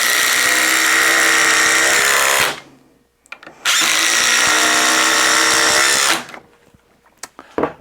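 A Ridgid impact driver on speed setting 3 with a 2 Ah battery makes two loud, close bursts of high-pitched whirring and hammering, each lasting a few seconds. A short pause separates them, and faint clicks follow.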